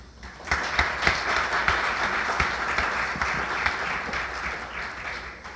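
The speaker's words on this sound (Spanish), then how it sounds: "pido un aplauso para él" Hands clapping for a speaker at a public meeting, a lively, continuous round of applause with individual sharp claps standing out, building quickly and staying strong throughout.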